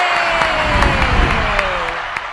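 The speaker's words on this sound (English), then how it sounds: "Crowd roars." A studio audience cheers and applauds at the start of a live economic update show, a steady wash of clapping and crowd roar that stays loud and fairly even throughout.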